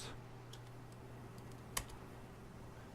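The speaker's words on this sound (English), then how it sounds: "Let's type in /reset" Quiet keyboard typing in the online game The Secret World: a few soft key clicks spread across a few seconds over a steady low hum, with one slightly louder click in the middle.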